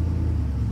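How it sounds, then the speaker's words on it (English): A vintage BMW engine rumbles low and steady at close range, a brief, even drone with no talking over it. "Oh, it's nice vintage car sound."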